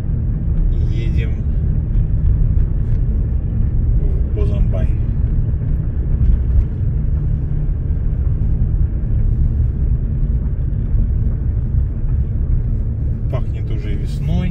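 Inside a moving car, a loud, steady low road rumble and engine drone fill the cabin, with a few brief higher sounds cutting in now and then.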